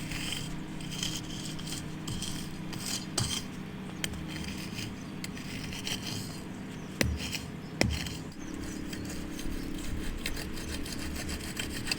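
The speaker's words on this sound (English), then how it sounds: "you're going to take your rake and you're just going to break apart the top layer" Rake scraping steadily through the top layer of dirt on a pump track, a continuous rough scratching and rubbing with a couple of sharper knocks, moderately close and without talk.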